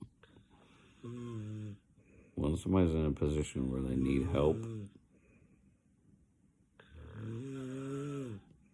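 A woman snoring in her sleep while lying on top of someone: two drawn-out, rumbling snores, close by, one at the start and one at the end, with someone talking in between.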